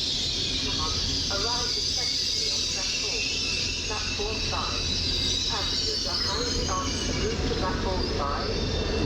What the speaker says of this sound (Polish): zbliża się do nas także skład kolei mazowieckich Elf